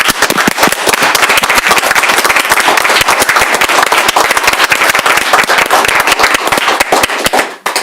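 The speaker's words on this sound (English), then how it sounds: "if Mayor and Council could stand and applaud Mr." Mayor and city council members stand and applaud during a council meeting, loud, close, vigorous clapping that stays dense and continuous throughout before cutting off abruptly at the very end.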